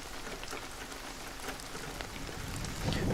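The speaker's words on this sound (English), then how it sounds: "I love the rain. It's so nostalgic. I feel like watching the thunderstorm out the window." Steady rain falls during a thunderstorm, a dense even patter of drops on surfaces that stays constant and fairly soft throughout, with no voices.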